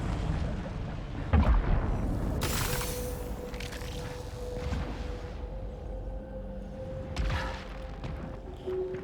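Rocket launcher blasts in the video game Returnal: a few booming explosions with rumbling tails, one loud hit early and another later, over a steady synthetic game drone with a sustained tone.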